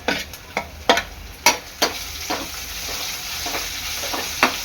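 Chopped spring onion bulbs tossed into a wok with browned garlic for soybean fried rice, stirred in a steady sizzle punctuated by sharp scraping clatters of the spatula at irregular intervals, close up with no talk.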